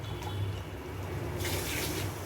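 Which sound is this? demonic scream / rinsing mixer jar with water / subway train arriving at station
rinsing mixer jar with water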